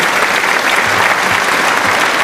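Loud, dense applause from a quiz show audience for a contestant, a continuous wash of clapping with no voices.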